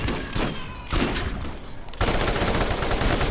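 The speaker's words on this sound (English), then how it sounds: "how these claptrap with shotguns are so freaking deadly at the range that they're hitting me at" Claptrap enemies firing shotguns in Borderlands: dense, loud bursts of blasts and impacts, broken into chunks with a brief lull, then a heavier continuous barrage near the end.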